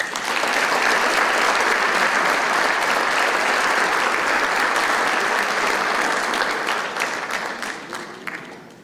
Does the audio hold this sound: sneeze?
no